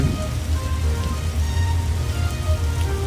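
Steady heavy rain pours down in a dense, continuous hiss during a plane landing in a flight video game, with a low rumbling undertone beneath the constant patter.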